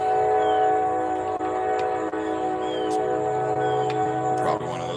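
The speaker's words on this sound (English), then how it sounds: "Oh, that's a big train." A big train rolls past nearby, a steady loud rumble with sustained horn-like tones that rise and fall over several seconds, while someone talks over it.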